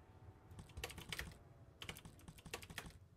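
Rapid keystrokes on a computer keyboard while playing a hacking-themed typing game, in quick bursts of clacking taps separated by short pauses, close and fairly quiet over faint background hum.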